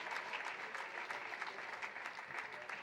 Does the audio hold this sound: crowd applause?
yes